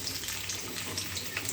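Chopped onion and garlic sizzle in hot oil in a wok, a dense, steady crackling fry heard close up and on its own for a brief moment.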